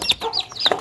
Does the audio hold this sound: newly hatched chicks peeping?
yes